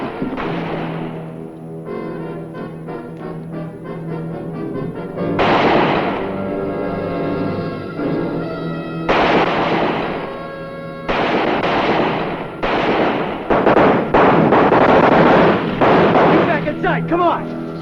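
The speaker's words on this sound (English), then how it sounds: "that's shooting down there" Gunfire in a western TV show set around Tombstone: repeated loud, booming shots and clustered volleys ring out over several seconds amid a musical score, some bursts rapid and overlapping, others separated by short gaps.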